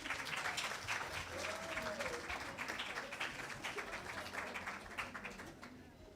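Sustained audience applause for a choir in a conference centre plenary hall, dense steady clapping filling the whole stretch and tapering slightly toward the end.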